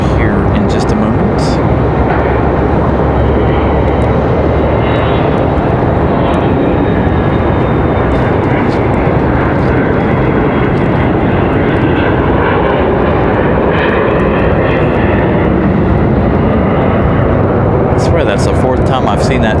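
Jet aircraft engines roar at Raleigh Durham International Airport, a loud, continuous, broadband rumble that fills the whole stretch with slight shifts in pitch, and voices talk faintly beneath it.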